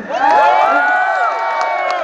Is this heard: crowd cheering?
yes